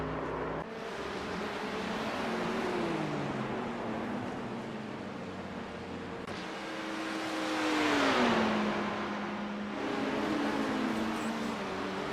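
Race car engines roar continuously in IMSA-style multi-class sim racing at Daytona as the cars accelerate and shift, with engine pitch climbing and dropping between gears and a louder swell midway.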